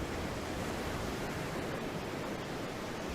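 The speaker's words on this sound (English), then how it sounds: "There was something peacefully familiar about the waves crashing against the empty shore." Ocean waves crash steadily against an empty shore, a continuous broadband roar of surf that stays loud and unbroken throughout, with no voices.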